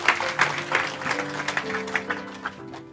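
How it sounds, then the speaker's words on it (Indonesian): Congregation clapping in a church service during a sermon, a scattered, uneven patter of hands that sounds somewhat half-hearted, with faint voices and tones underneath. "Mari kita beri tepuk tangan untuk kebenaran ini."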